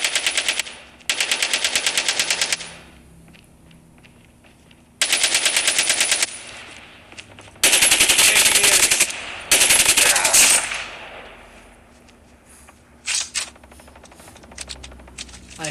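Automatic AK rifle fire in a Call of Duty squad battle royale match, several loud sustained bursts separated by short pauses, followed by scattered quieter shots.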